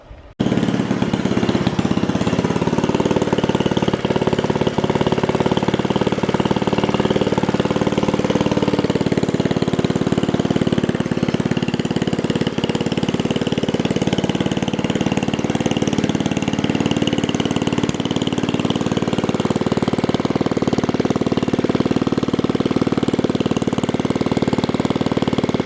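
A Johnson Iron Horse engine that had sat for years runs on the floor, a loud, steady, close mechanical chugging that starts abruptly and holds for the whole stretch with no talking.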